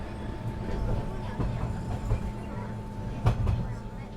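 Train in the canton of Valais, southwest Switzerland, climbing into the Alps toward Crans-Montana: a steady low rumble of the carriage with faint rhythmic clicks and a louder jolt near the end.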